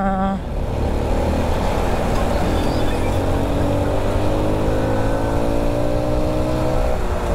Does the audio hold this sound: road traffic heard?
yes